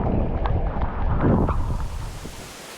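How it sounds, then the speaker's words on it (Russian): Hurricane Milton's terrible wind blows in Florida as a steady, heavy rush buffeting the microphone near a parking lot, loud and unbroken, then easing slightly toward the end. "Жуткий ветер"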